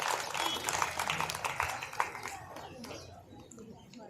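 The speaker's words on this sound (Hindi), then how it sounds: "जोरदार तालियां बच्चों।" Children applauding at a school event: a dense burst of clapping that fades out after about two seconds, with a voice speaking over it.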